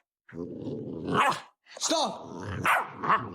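A dog barks and growls up close in two rough, throaty outbursts separated by a short pause, while a person briefly speaks.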